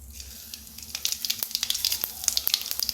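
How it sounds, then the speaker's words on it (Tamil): Mustard seeds and cumin hitting hot oil in a kadai, a close, loud sizzle with rapid crackling pops that build after the first second. "ஒரு கடாயில் எண்ணெய் ஊற்றிக்கிங்க கடுகு"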